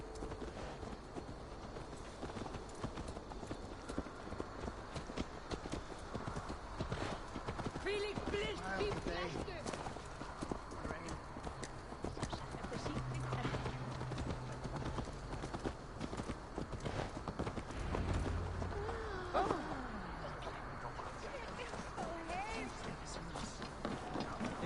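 Horse hooves clip-clop steadily in Assassin's Creed Valhalla, a continuous rhythmic trot running beneath game music and dialogue voices for the whole stretch.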